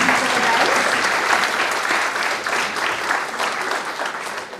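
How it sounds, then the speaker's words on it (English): An audience at a law school event applauds, giving a dense, steady burst of clapping from many hands that carries on for several seconds without a break. "So a big round of applause for all the debatees for the dais."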